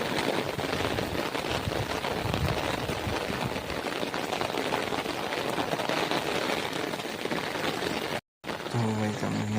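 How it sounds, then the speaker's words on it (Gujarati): Heavy rain pours down in a dense, continuous hiss on a rural farm road, loud and unbroken apart from a brief cutout near the end. "વરસાદ ચાલુ જ છે"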